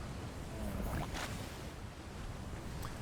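A ship sailing on open ocean in the video game Atlas, heard as a steady wash of wind and water noise without break, with faint creaks rising briefly through it.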